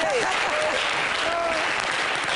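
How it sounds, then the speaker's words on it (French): A class applauding in a classroom, continuous dense clapping from many students at a steady loud level, with a voice briefly heard over it. "Très bien, applaudissez"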